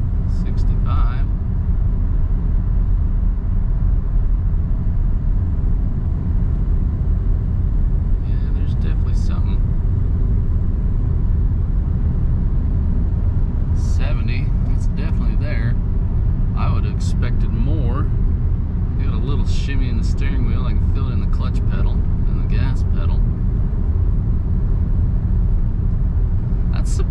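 A car cruises on a 65 mph road with a steady low road and tire rumble throughout, and a person talks over it intermittently.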